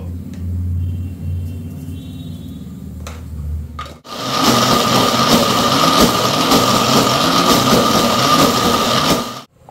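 An electric grinder whirs loudly and steadily as it grinds spices with a little salt, switching on abruptly after a quieter low hum and running for several seconds before cutting off.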